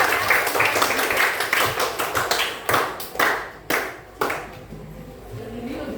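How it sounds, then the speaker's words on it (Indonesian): Classroom group clapping for a team of students, quick scattered claps that thin into a few distinct louder hand claps before trailing off. "tepuk tangan untuk kelompok 2"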